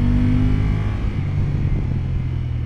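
A Honda NT1100 DCT motorcycle accelerates hard on a rough road surface, a loud, close, continuous engine rumble that shifts pitch partway through, with no talking.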